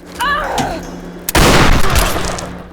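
Weapon fire in the video game Tomb Raider (2013), where the shotgun, handgun and rifle can be upgraded. A brief squeaky cry comes first, then a loud burst of gunfire with a booming, decaying tail.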